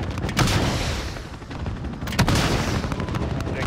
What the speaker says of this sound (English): Missiles away. Missiles away.